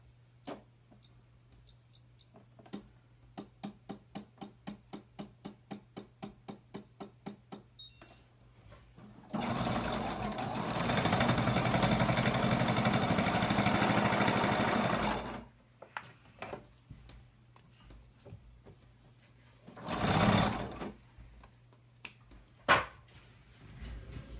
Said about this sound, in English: the only thing I did was straight stitching.